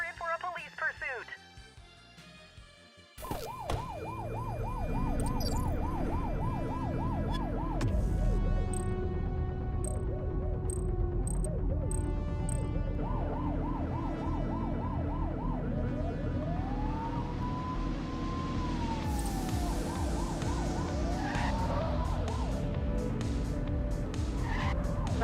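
Police sirens wail in rising and falling sweeps over roaring car engines and tire skids during a pursuit in the video game The Precinct, loud and steady throughout with voices at times.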